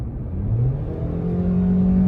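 Engine of a 2020 Toyota Corolla Dream Multidrive S heard from inside the cabin in sport mode, a steady droning hum that rises gently in pitch as the revs climb, with no talk over it.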